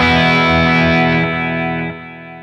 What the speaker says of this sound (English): See how it sounds with effects into the front